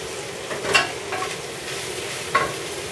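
Food sautéing in a pan gives a steady, quiet sizzle with a few soft clinks or stirring scrapes, and no one talks over it.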